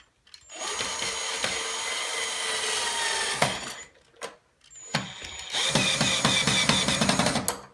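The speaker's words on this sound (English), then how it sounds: "as you're screwing these in, just make sure that the other holes still have the black marks lined up" A power drill whirs steadily as screws bite into a wall while mounting window blind brackets, pausing briefly with a few knocks before whirring again.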